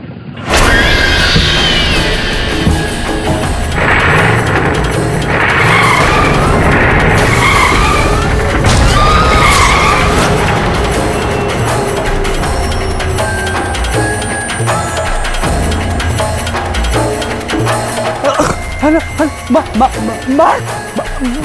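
An old man's car skids and drives loudly through a dramatic courtroom-drama chase scene, with squealing tyres and engine noise layered under music and effects throughout.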